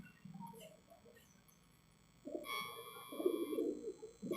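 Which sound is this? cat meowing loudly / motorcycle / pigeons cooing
pigeons cooing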